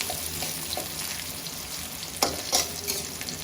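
Onions with salt fry in a pan in a steady close sizzle, with a few louder stirring scrapes and clacks from a spoon near the end, no voices.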